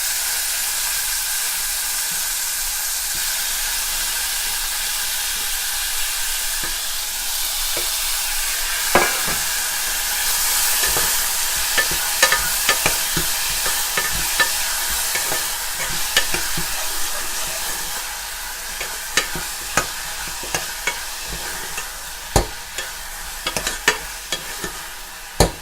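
Chopped tomatoes and curry leaves sautéing in a pan, with a constant sizzle and hiss and a series of sharp scraping stirs that come more often toward the end.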